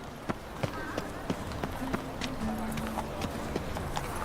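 Hooves of the horse Roach clip-clop at a steady gallop in The Witcher video game, a rhythmic run of close thuds under game music and a voice.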